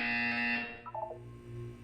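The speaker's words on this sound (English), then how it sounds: "You will hear a buzzer." A loud electronic buzzer from the Portal 2 test chamber sounds steadily for about half a second, then cuts off into a few short stuttering tones over a low background hum.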